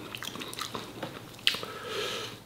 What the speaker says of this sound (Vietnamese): mình thích ăn cái kiểu mà mình cầm nguyên cái thì mình cắn nó nè